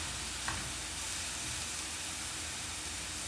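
Shrimp stir-frying in a pan sizzles steadily, a continuous bright frying hiss at close range with one small pop near the start.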